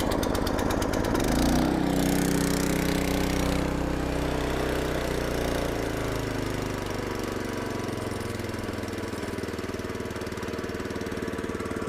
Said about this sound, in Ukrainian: Як бачите, бензин дуже легко заводиться, як ми і говорили.